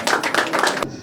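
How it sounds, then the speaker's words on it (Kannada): A crowd gives loud applause at a Swami Vivekananda birth anniversary celebration, a dense burst of many hands clapping that stops abruptly near the end. "ದೊಡ್ಡ ಜೋರ ಚಪ್ಪಾಳೆ ಬರಲಿ"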